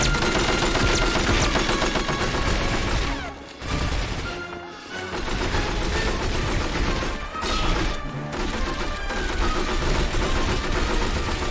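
Gunfire in the PS2 game From Russia With Love inside a tunnel, aimed at a turret: dense, continuous rattling shots and crashing impacts, loud and close, with brief lulls and no talking.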